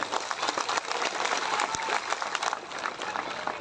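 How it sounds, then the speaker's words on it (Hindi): Dense crowd applause at a political rally in Kaimore, Vijayraghavgarh, a steady wash of many hands clapping at once, fairly distant and sustained throughout with no speech over it. "लगाओ ताली बहनों के लिए।"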